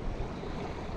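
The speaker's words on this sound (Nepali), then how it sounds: "हामी चाहिँ यसरी पानी जहाजमा गाडीहरू तार्छौँ है" A vehicle ferry crosses the Arun river, with a steady broad wash of water and engine rumble close by, a continuous rushing noise with no voices.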